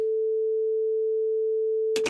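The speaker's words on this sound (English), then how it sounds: "A sine wave only has one harmonic." A steady 440 Hz sine wave played on a Toraiz SP-16 sampler holds one pure, unwavering tone for about two seconds, ending in a brief burst of broadband noise.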